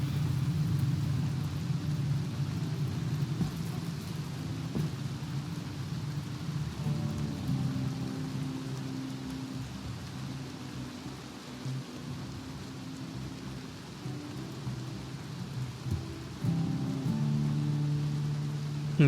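Steady rain falls in the video game RimWorld after a big fire, a continuous hiss of rainfall on surfaces with a deep rumble underneath, holding at a constant level throughout.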